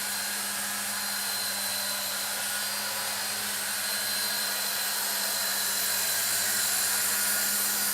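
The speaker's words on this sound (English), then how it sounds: "And the tail rotor is just freely spinning." Heli-Max Novus CX 4-channel 2.4GHz RC helicopter with its tail rotor freely spinning indoors, a steady high whirring hiss with a constant low hum, even and close throughout.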